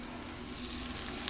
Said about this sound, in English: I'll be adding them to the pressure cooker that's been on saute mode so they